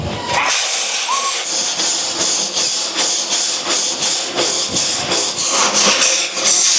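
A brush scrapes ash and debris off the inside of a wood stove's interior tube in an off-grid home in winter, making loud, close, rhythmic rasping strokes that repeat steadily.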